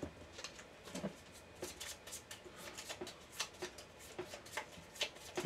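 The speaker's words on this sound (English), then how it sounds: "And it's about to get shuffled." Playing cards being shuffled during a Gloomhaven board game session, a steady rhythm of soft riffling snaps repeating several times, close but quiet, with no voices.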